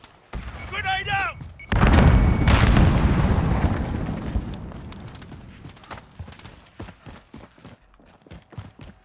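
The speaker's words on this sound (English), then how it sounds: "Grenade out!" A grenade explodes in the video game Warzone with a loud, close boom that rolls into a long rumbling decay, followed by a string of sharp gunshots; a voice is heard briefly just before the blast.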